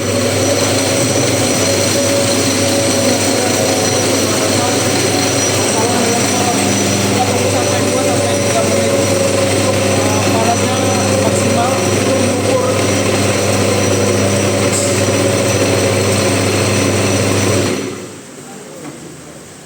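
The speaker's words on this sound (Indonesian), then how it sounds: "lalu kita memulai untuk menghidupkan mesin." A bearing maintenance machine running steadily in a workshop, a loud, even engine drone with a strong low hum that holds for most of the stretch, then drops off abruptly.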